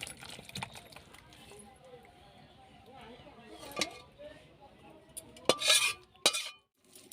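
A utensil scrapes and knocks against a pot as a Bengali potato curry (alur dom) with garam masala is stirred, giving soft irregular scraping and a few sharp metallic clinks near the end, with someone talking throughout.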